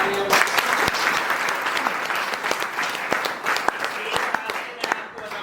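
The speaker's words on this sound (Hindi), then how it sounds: "मैं चाहूंगा एक बार आप अपने लिए जोरदार तालियां।" Loud applause from an audience at a training event, dense clapping filling the whole stretch with a few sharper individual claps standing out, and some voices mixed in underneath.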